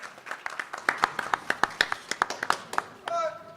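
A small audience claps for contestants after a game at a cinema event, about twenty distinct crisp hand claps in a quick uneven rhythm, close by, ending as a voice starts speaking.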